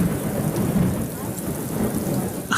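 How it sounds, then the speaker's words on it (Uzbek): Heavy rain pours steadily with deep thunder rumbling through it, a dense continuous roar with no pauses for the full stretch. "Yomg'ir yog'yapti."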